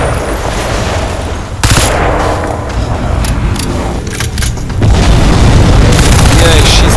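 Gunfire aimed at a tentacled alien enemy in the shooter game Crysis 2, with loud booming bursts and rapid volleys that swell near the end, while someone talks over the shooting.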